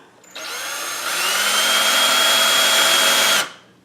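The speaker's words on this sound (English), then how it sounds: "So what I need to do is just do a little pilot hole" A power drill boring a small pilot hole near the edge of a wooden frame, one loud close whine that rises in pitch, holds for about three seconds, then cuts off.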